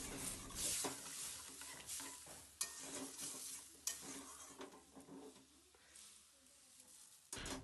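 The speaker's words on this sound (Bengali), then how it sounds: "জল দিয়ে ভালো করে এটাকে নাড়াচাড়া করে নেব।" Kalai greens curry stirred in a pan after water is added, with repeated scraping strokes and soft sizzling, close, in uneven bursts with pauses between.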